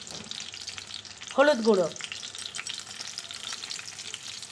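Eggplant slices fry in hot mustard oil in a pan with a steady, close crackling hiss, and a short spoken phrase cuts through partway.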